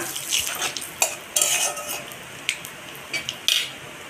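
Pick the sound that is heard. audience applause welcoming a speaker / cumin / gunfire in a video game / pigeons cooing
cumin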